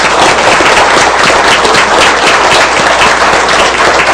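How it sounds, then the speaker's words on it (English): Loud, dense applause from a city council meeting audience, a close, saturated roar of many hands clapping that holds steady and unbroken throughout. "I know everybody wants to give you a round of applause just to start"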